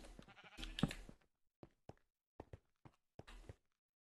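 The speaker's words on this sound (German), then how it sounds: "Hört man die Schafe." Blocky Minecraft sheep bleat a few times in a game world, short plaintive cries followed by a string of quiet footstep-like taps, with no talking.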